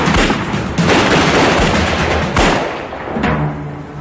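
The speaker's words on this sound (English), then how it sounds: "There was an exchange of gunshots." A loud, close exchange of gunfire during a police confrontation with bank robbers: dense bursts of shots crackle over one another for several seconds, with heavier booming hits among them.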